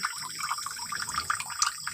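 Water splashes and trickles steadily as some is bailed out of a crayfish tank, faint and close, with small drips and sloshes and no talking.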